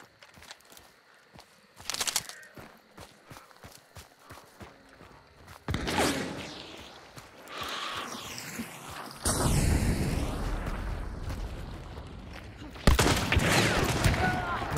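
Gunfire in the Hunt: Showdown video game, with bursts of shots and loud blasts that come and go over footsteps and movement, growing denser and louder toward the end.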